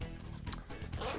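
A zipper on an eFoil travel case opens with a short, close rasping pull, quiet and followed by light handling noise.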